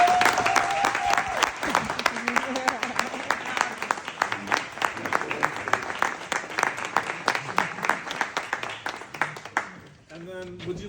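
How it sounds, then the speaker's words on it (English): Town hall audience applauding a congresswoman, dense sustained clapping from a crowd filling the room, steady and loud before tapering near the end, with voices mixed underneath. "I'd like everybody to give Congresswoman Dina Titus a round of applause"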